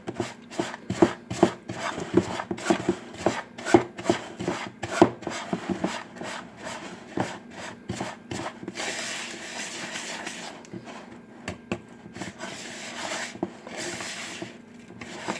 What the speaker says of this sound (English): Got to make sure that's real good and mixed up, because you want all the crumbs to get saturated with the butter